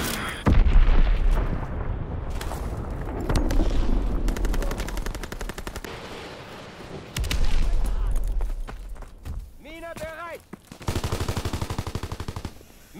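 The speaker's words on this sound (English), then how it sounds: "Enemy bomb incoming. Get to cover." Heavy wartime combat rumbles in Call of Duty WWII on a winter Carentan map, with loud booming blasts and sustained machine-gun fire in waves, a rising whistle-like tone near the end, and some voices in the mix.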